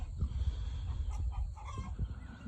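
Several hens cluck and murmur in soft, irregular calls in a poultry pen with ducks, against low outdoor rumble, quiet and a little distant, with no one talking.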